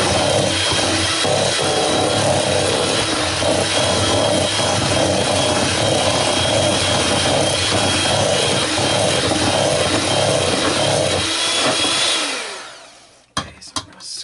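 An electric stand mixer beats pumpkin cinnamon chip cookie dough with sugar, a loud steady whirring drone with a gritty churn that runs continuously before winding down and stopping, followed by a few knocks.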